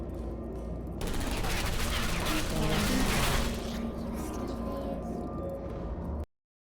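A video game turret firing, a continuous loud rattle of rapid automatic shots that swells in the middle and cuts off abruptly, with a voice speaking under it.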